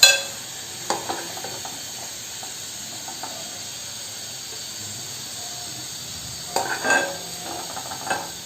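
Onions browning in oil for chicken biryani, a continuous gentle sizzle and hiss with occasional spoon stirs and scrapes, no talking.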